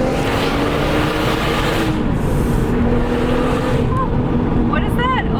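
A 350HP Lotus Evora S accelerates hard, its engine roaring loudly and continuously from inside the cabin, with tyre and road noise beneath.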